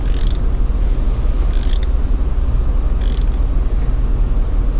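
Ratcheting and creaking from a wrench tightening a spark plug on a VW Touareg VR engine as its crush washer compresses, with three short bright clicking bursts over a steady mechanical background.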